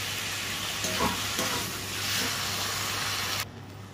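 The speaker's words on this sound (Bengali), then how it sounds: "যতক্ষণ না জল শুকোচ্ছে ততক্ষণ আমাদের নাড়িয়ে নাড়িয়ে জলটা শুকিয়ে নিতে হবে" Lote (Bombay duck) fish fries in a pan with a steady hissing sizzle, broken by a couple of stirring scrapes before the sound drops away abruptly near the end.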